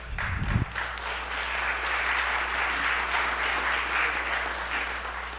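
Steady, sustained applause from an audience filling the whole stretch, dense clapping without a break after a brief low thump at the start.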